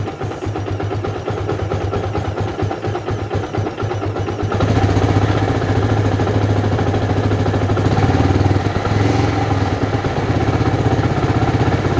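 Yamaha Vixion motorcycle engine, checked for a regulator fault, idling steadily and then revved harder partway through, holding a loud, close, rough drone at raised speed.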